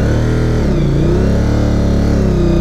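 A Honda VTR1000SP2 large motorcycle revs hard on a steep forest trail, its V-twin engine growling loud and near with rising and falling pitch as the throttle is worked, alone without talk.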